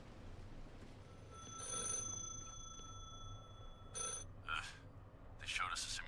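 A telephone rings inside a video game, with short repeated electronic bell bursts over a low hum, fairly faint, while a person talks over it.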